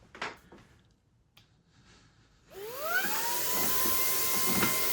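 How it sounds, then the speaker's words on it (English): A Fanttik V10 Apex cordless vacuum starts in blower mode with a rising whine that settles into a loud, steady, high-pitched rushing hum, after some quiet handling clicks. "Now when I turn it on, it'll be in blower mode."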